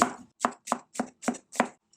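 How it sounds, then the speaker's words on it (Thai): Rapid, even chopping of tomatoes and shallots with a knife on a board, about six crisp close strokes in quick succession, no voices. "เอามาหั่นส่วนผสมมะเขือเทศ มันก็หั่นตามชอบเลย หัวมาหอมย่อย"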